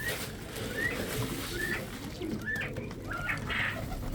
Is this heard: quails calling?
yes